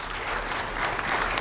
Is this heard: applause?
yes